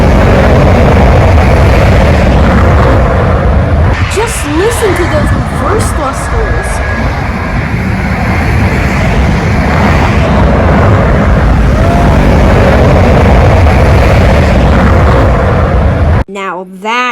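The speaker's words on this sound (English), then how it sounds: "Listen to those reverse thrusters." Airliner reverse thrusters roaring at Suvarnabhumi Airport, a loud, sustained broadband jet rumble filling the whole stretch, with faint voices underneath and a brief burst of talk at the very end.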